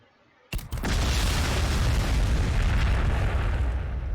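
In Warhammer 40,000: Sanctus Reach, an explosion meant to clear battlefield debris hits with a sudden loud boom after a brief quiet start, then a sustained heavy rumble follows.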